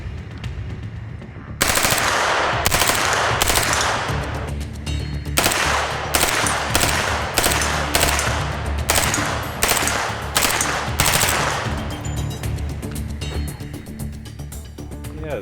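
An MP5 submachine gun fires outdoors in a long string of loud, sharp bursts and short strings of rapid shots, separated by brief pauses, with echoing decay after each burst.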